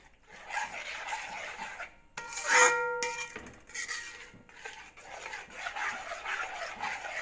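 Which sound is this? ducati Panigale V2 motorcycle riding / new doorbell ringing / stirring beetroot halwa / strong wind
stirring beetroot halwa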